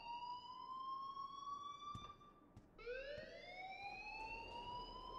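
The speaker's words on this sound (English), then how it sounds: "please turn off that alarm" An electronic alarm in the video game Life is Strange wails in steady rising tones, pausing briefly before sounding again, with faint clicks and no speech.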